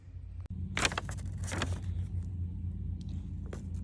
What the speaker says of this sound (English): What I'm doing right now is just tightening them down with the electric ratchet